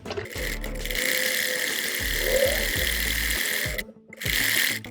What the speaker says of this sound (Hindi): इस तरह से अब इस साइड पे भी एक पैर के वक्फे पे सिलाई लगा लेंगे